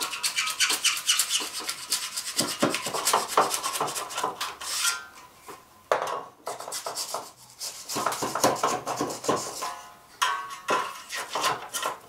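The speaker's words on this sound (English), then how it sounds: "all you've got to do is cut back this foam using a plasterboard saw, a knife, or a sharp trowel like this." Expanding foam on a wall being cut back with a sharp plasterboard saw or trowel: steady, close rasping strokes in a quick scraping rhythm, continuing with brief pauses, no talking.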